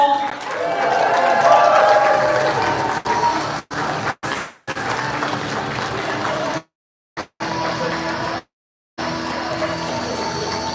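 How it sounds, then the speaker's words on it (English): An audience at the TF Con 2025 fan convention in Toronto claps and cheers amid talking, a dense wash of noise cut by several abrupt silent dropouts. "All right, guys, round of applause."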